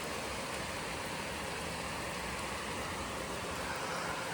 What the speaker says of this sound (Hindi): इस टाइम आई तब आकर बारिश एकदम तगड़ी वाली।